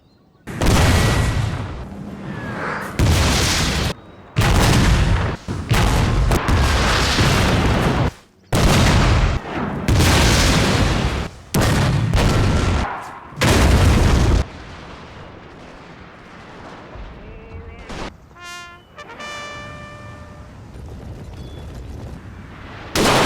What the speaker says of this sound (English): The cannons opened fire once the Mahdist forces got within range.